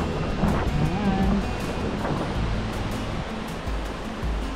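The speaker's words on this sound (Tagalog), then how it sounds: "Dinadaanan natin ay isang ilog" A river flowing beneath a crossing in Villa Aurora produces a continuous, loud rushing wash, broad and steady from start to finish, with wind buffeting the microphone and a brief voice early on.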